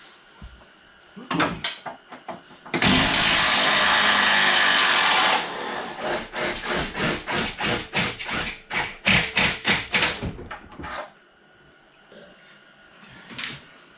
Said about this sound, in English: I'm going to use an 18mm and I'm going to remove this trans bolt side